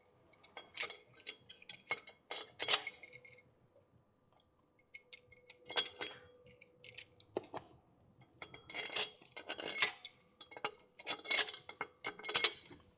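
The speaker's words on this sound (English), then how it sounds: "Now I'm just going to wind these in." Oiled head bolts are wound in by hand on a Nissan X-Trail QR25 engine, giving quiet, irregular clusters of light metallic clicks and clinks separated by short pauses. No one speaks.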